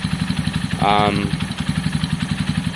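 A Kawasaki KSR motorcycle engine running after repair work, with a steady, fast, pulsing idle close by. A person talks over it briefly.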